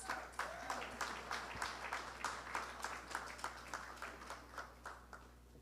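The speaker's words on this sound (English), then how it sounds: "Round of applause, please." Audience applause at a Caribbean media awards ceremony, a steady run of clapping from a modest crowd, with individual hand claps clearly distinct and moderately loud throughout, no talking over it.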